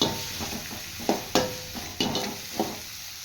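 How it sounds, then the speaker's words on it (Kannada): Chopped tomatoes frying in a pan for a pumpkin and field bean stir-fry, with a steady sizzle under repeated sharp scrapes and clinks of a spoon stirring against the pan, close and with no talking. "ಮತ್ತು ಕಟ್ ಮಾಡಿ ಇಟ್ಕೊಂಡಿರೋ ಟೊಮೆಟೊ, ಸ್ವಲ್ಪ ಹಿಂಗೆ ಟೊಮೆಟೊ ಫ್ರೈ ಮಾಡ್ಕೋಬೇಕು."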